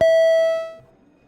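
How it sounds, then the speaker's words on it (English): A single Senate quorum call bell in the chamber, one clear ringing strike with a sharp attack and a pure sustained tone that decays over under a second, heard alone. "Can we ring the bells, Madam Secretary?"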